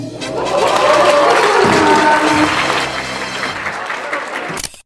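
A crowd applauds and cheers at a Hanshin Group company new year kickoff ceremony in 2023, with broad, sustained clapping and voices mixed in, fading and cutting off near the end.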